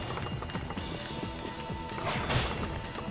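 A horse gallops in the Warriors Orochi 3 video game, its rapid hoofbeats drumming under a dense wash of battle noise, music and clashing effects, with a louder crashing burst partway through.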